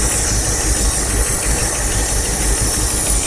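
An old vehicle's engine runs on its own fuel system, giving a steady, loud, rough idle with a constant hissing wash and a low rhythmic knocking throb throughout.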